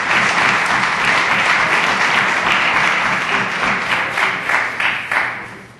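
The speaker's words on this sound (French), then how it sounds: "ils s'applaudissent, ils s'auto-applaudissent" Members of the Quebec National Assembly applaud in the chamber, a dense, steady burst of many hands clapping that thins toward the end into a few separate claps.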